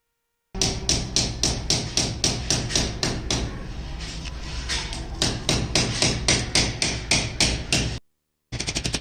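Nails being hammered into a wooden strip to fix it against a room wall: a long run of sharp, evenly spaced blows, loud and close, with a brief pause before the strikes resume.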